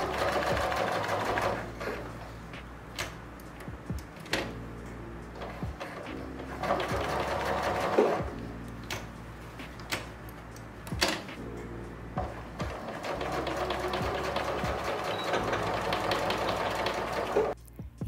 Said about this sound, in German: Denn wir nähen jetzt genau von diesem einen Knips oder von der Markierung einmal runter und schließen die Seiten.